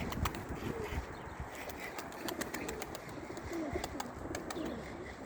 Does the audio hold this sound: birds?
yes